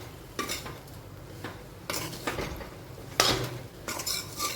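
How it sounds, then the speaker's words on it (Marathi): Bread pieces seasoned with salt and sugar are stirred in a pan over a low flame, a spoon scraping and clinking against the metal in several uneven strokes, with faint frying in the background. "हलवूया छानपैकी."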